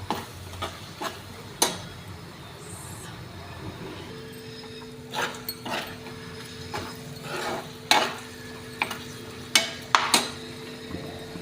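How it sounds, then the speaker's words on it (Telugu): Food frying and being stirred in a pan on a home stove, with repeated scraping and clinking of a utensil against the pan over a steady low sizzle and a faint hum. "ఇదైతే కొంచెం వేగాలండి."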